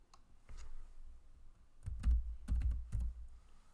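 Quiet keystrokes as a SUM formula is typed into Excel on a computer keyboard, with a few scattered taps and then a quick cluster of clicks near the end, close and soft.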